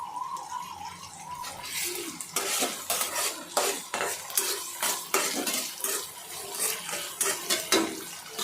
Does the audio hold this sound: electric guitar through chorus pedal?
no